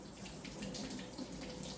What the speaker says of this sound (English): I gotta wash off my hands because they're kind of gooey